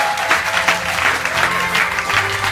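A church congregation breaks into sustained applause after a call to acclaim the Lord, a dense wash of clapping that holds steady and loud throughout, with a low murmur of voices beneath it.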